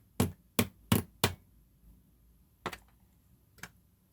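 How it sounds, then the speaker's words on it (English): A nylon hammer gently taps a Parker 45 fountain pen nib, four quick, sharp knocks in a row followed by two softer, spaced taps, close and clear in a quiet room. "gently we need to tap it with a nylon hammer"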